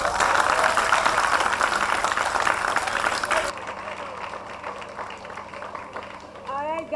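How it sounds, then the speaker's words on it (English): Loud, continuous applause from the audience at a national poetry slam final in Gambia, cut off abruptly midway and followed by quieter room noise and voices. "one more time, give all the poets a big round of applause"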